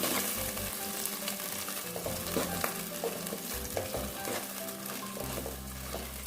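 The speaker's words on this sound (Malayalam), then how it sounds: "നമ്മൾ വേവിച്ച് വെച്ചിരിക്കുന്ന കടല പയർ അതിലേക്ക് ഇട്ടൊന്ന് ചെറുതായിട്ടൊന്ന് വഴറ്റുകയാണ്." Cooked chickpeas and green gram sautéing in a pan for payasam, a dense close sizzle with repeated stirring scrapes and light clatter throughout.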